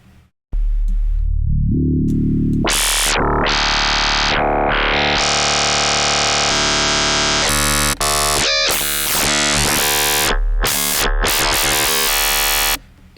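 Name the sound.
FM synthesis with sine wave oscillators in Phase Plant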